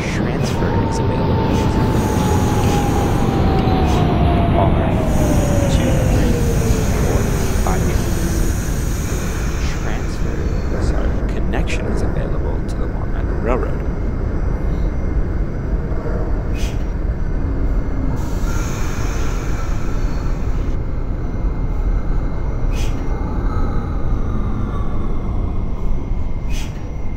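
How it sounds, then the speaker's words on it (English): An R68 subway train on the N line to Coney Island in the OpenBVE simulator rumbles loudly and continuously, with a falling whine early on and clattering track noise throughout, and no talk. "This is a Coney Island bound and express train."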